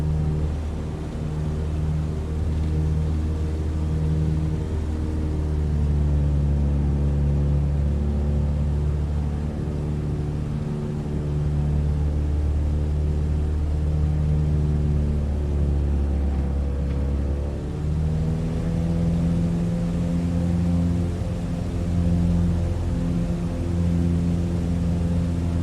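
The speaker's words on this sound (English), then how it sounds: "Oh, you can't hear me over the engine noise." Aircraft in the video game Microsoft Flight Simulator over Maui: a continuous loud droning engine with steady low harmonics that shift slightly in pitch, no voice heard.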